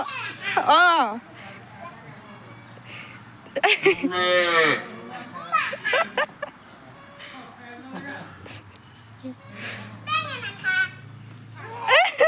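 Cows and a calf moo loudly and close by, several separate calls spread through the stretch, during Goru Bihu cattle festivities in Assam as children talk and shout around them.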